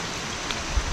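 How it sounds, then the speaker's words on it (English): Heavy rain pours down steadily at a campsite, a dense close hiss of drops beating on surfaces, continuous and loud with no voices. "really raining. It's coming down."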